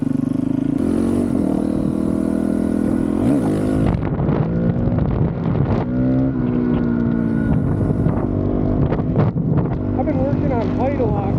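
A Honda CRF450RL dual-sport motorcycle being ridden on a road, its engine droning steadily with rising and falling revs and gear changes, accompanied by wind buffeting and a voice talking over the ride.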